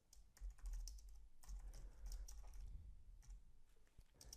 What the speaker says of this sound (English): I'm typing a backslash and I continue the string on the next line